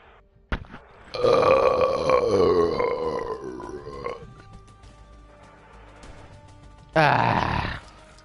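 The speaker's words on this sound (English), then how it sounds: "I feel like all your burps are like starting to become fake now." Loud, drawn-out burp of about three seconds from a gamer playing Apex Legends, followed by quieter background sound and a second short, forceful burp near the end.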